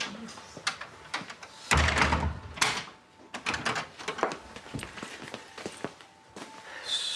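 A door is handled in a domestic TV drama scene, with clunks, knocks and shuffling footsteps in scattered bursts, close and fairly loud.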